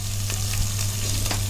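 Turmeric and spices frying in a pan for cashew chicken curry, a steady close sizzle with a low hum beneath and occasional scraping stirs.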